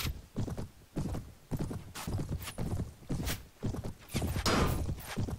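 Galloping horse hooves pound in a steady, close rhythm during a Mount & Blade battle, roughly a dozen heavy beats, with a faint neigh and scattered thuds among them.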